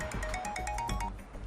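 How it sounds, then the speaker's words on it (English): A phone ringtone plays as a bright, repeating electronic melody with rhythmic pulses, moderately loud and alone. "he gets a phone call"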